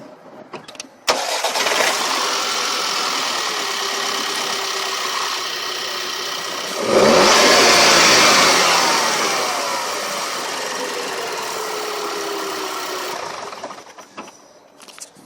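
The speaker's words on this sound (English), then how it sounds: "Let's turn on the car." A 2009 Volkswagen GTI turbocharged engine cranks briefly and fires up, settling into a steady idle, then revs up loudly for a couple of seconds before dropping back to a smooth idle and shutting off near the end.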